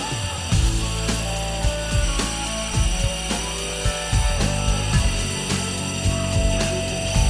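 A circle is sawn out of a wooden valve wall, with close, rhythmic rasping strokes mixed with clattering and ratcheting tool noises throughout.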